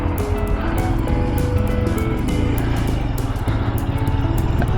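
A 2024 Royal Enfield Scram 411, an air- and oil-cooled 411cc single-overhead-cam four-stroke single, pulls away with a close, loud, throbbing exhaust note and a constant rough mechanical chatter that runs throughout.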